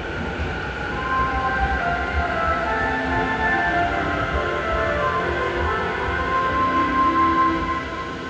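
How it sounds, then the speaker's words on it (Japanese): An E257 series limited express train, the Shinjuku Sazanami bound for Tateyama, rolls into a platform on the Chuo-Sobu line, a steady, loud rumble of wheels and motors with faint tonal squeals, continuous throughout with no talk. "この列車は特急電車です。"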